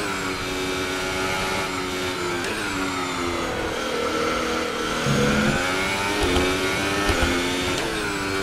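Formula 1 cars rolling onto the track in the racing game F1 2023, a steady whining engine drone with rising and falling revs, loud and continuous with no talk.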